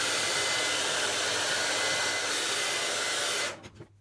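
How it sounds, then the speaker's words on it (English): A hair dryer blowing on hair, a loud steady whooshing roar that holds for over three seconds and then cuts off abruptly. "Blow dry it for just a minute."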